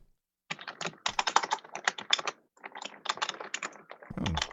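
Rapid typing on a clicky Logitech K120 keyboard: close, crisp bursts of keystrokes in uneven runs broken by short pauses, with a low rumbling sound at the end.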